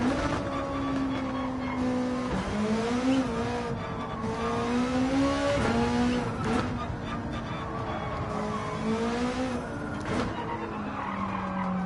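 A race car engine roars loudly and continuously in Gran Turismo 7 at Grand Valley, its pitch rising and falling with gear changes, mixed with tire squeal as it closes in.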